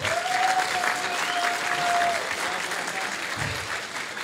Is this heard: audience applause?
yes